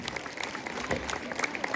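Congregation applauding at a year-end church celebration, a loose scatter of claps over crowd murmur, with a voice speaking over it and fairly faint overall.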